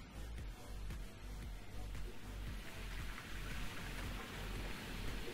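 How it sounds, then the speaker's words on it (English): Soil poured from a bucket in Gold Mining Simulator, a steady gritty rushing pour lasting several seconds, fairly faint and continuous like falling rain, with machinery hum underneath. "Pour soil from bucket into magnetic circuitry."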